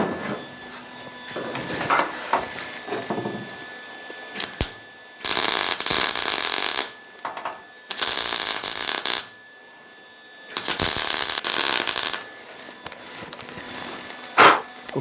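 Spot welding along a windshield channel on a 1968 Pontiac GTO A-body, with loud crackling bursts of welding lasting about a second or two each, broken by quieter gaps of shop noise.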